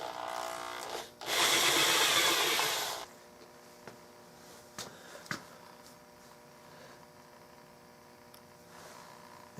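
A power drill bores a large hole in a custom wooden gun stock for a Remington 788, a loud rasping two-second burst near the start, followed by quieter scraping, taps and clicks.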